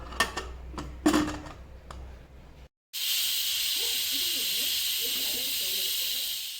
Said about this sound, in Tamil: ஆறு உசில் வந்துருச்சுன்னா வெந்துடும் குக்கரில் தான் வைக்கிறோமா